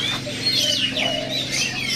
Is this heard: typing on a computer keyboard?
no